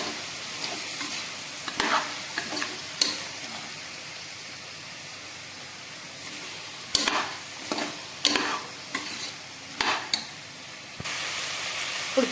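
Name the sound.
potato pieces frying and being stirred in a pan for veg biryani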